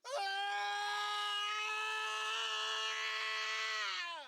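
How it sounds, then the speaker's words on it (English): A person screams for Sauron's voice in The Lord of the Rings: one loud, raw, sustained scream, held steady for about four seconds before it cuts off. "We recorded ourselves screaming"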